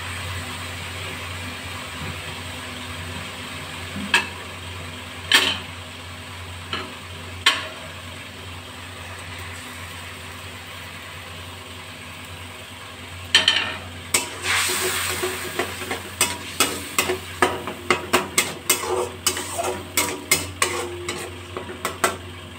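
Chhana stir-fried in spice masala in a pan for begun bahar over a lowered gas flame, a steady low sizzle under scattered spoon scrapes and clacks that grow busier and more rhythmic toward the end.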